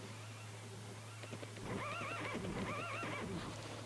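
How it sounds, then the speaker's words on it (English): Several horses in the video game The Legend of Dragoon whinny loudly in two rising, quavering neighs, with hoof clip-clops and thuds underneath and a steady low hum in the background. "Some crazy horses and shit."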